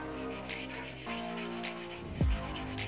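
A brush scraping across the metal of a furnace flame sensor to clean it, giving a steady, close rasping rub that runs throughout at moderate level, ending in a short louder scuff.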